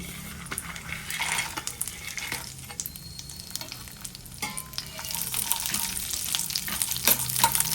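Ingredients for carrot halwa fry in a pan, a soft continuous sizzle broken by frequent clicks and scrapes of a spoon stirring against the metal, close and fairly quiet, with no talking.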